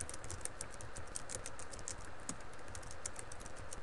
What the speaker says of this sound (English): now I'm just going to type in gibberish